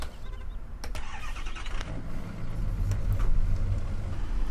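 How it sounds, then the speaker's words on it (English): A pickup truck engine in Farming Simulator 17 starts with a few clicks and a cranking burst, then settles into a low, steady idle that swells slightly, heard alone without talking. "Let's listen to the engine real quick here."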